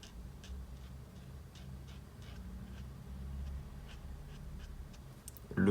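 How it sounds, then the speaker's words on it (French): A black alcohol marker colors in the pupils on a 3D model of the Fortnite banana, giving faint, repeated scratchy strokes and ticks against a low background hum, with a louder bump at the very end. "avec un feutre à alcool noir, on peut venir colorier nos pupilles"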